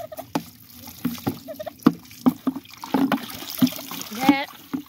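Water splashes and trickles into a chicken water container on a small woodland farm, with irregular close splatters and drips, chickens faintly in the background and a person talking over it.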